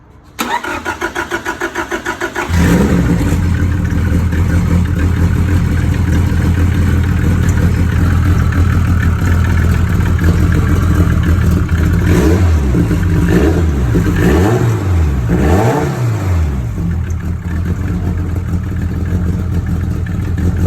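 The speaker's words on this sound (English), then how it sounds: "He just started it up. I'll put up a clip of whenever he started it." A drag racing car fitted with a massive Garrett turbo, two blow-off valves and a Gato Performance intake cranks and fires, then settles into a loud, steady idle with several sharp revs, heard close with no talking.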